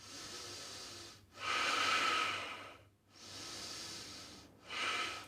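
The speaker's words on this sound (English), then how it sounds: "Take a few more breaths here" Slow, deep breathing in a yoga bridge pose, with long audible breaths rising and falling in a steady rhythm, close and soft, with no talking.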